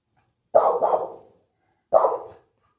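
A dog gives two loud, close barks, the first a doubled woof and the second single, separated by a second of silence.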